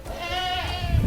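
A goat bleats loudly and close by on a farm in Uganda, one long wavering cry, with faint background noise and no talking.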